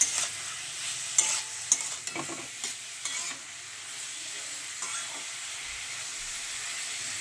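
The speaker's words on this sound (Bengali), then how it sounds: "এবার এটাকে ভালো করে নাড়াচাড়া করে নিতে হবে" Chow mein noodles are stirred in a hot pan, with an even steam-like hiss under repeated clanks and scrapes of the utensil that fade toward the end.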